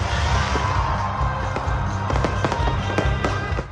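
A fireworks display at a graduation ceremony, with rapid crackling bursts and sharp pops layered over a dense, continuous roar. A tonal melody plays loudly beneath the explosions throughout.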